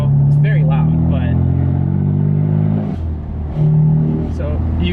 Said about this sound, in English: so you can hear the exhaust valves kind of fluttering in between.